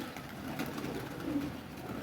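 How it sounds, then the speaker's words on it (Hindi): A young pigeon kept at home gives faint, low murmuring coos over a steady background hiss, quiet and close. "ये बेबी पिजन है जी"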